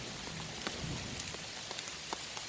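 Steady rain patters on an umbrella outdoors at a camper site, a continuous close hiss with occasional sharper drops, no voices.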